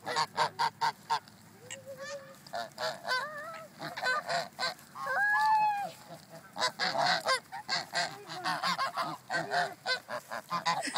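A flock of geese honk loudly and repeatedly while chasing a person outdoors, with dense overlapping calls, brief pauses and a harsh rising squawk partway through, close to the listener.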